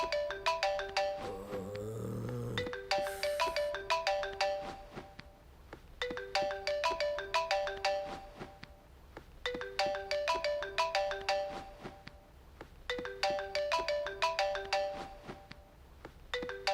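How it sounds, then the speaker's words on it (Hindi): A mobile phone ringtone plays a bright, repeating chiming melody in regular bursts with short gaps between them, moderately loud and clear, with a brief lower noise near the start. "कितनी हॉरिबल रिंगटोन है"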